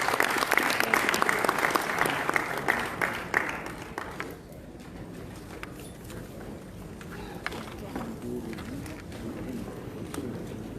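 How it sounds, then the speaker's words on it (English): Audience applause closes an HIV prevention conference session at ICASA 2019, loud and dense clapping for the first four seconds, then fading into a quieter room murmur with scattered claps. "can you give them a round of applause?"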